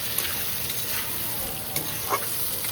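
Chillies sizzle and fry in a pan while being stirred, a soft, continuous crackle with faint scraping through it and no voices.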